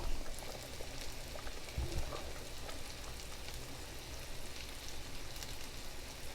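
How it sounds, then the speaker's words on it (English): Dr Pepper barbecue sauce bubbling as it boils down in a pot: a steady, dense wash of fine popping and hiss at even level throughout, with no voices. "We're boiling this until it's thick enough to be barbecue sauce."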